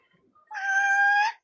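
A house cat gives a single drawn-out meow, fairly quiet and close, after a few faint soft sounds.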